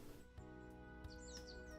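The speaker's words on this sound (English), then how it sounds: "The soft chirping of birds gradually awaken me from my slumber." Soft birdsong in the video game I Am Senpai, a few thin chirps and tweets drifting over a steady sustained music bed, faint and brief.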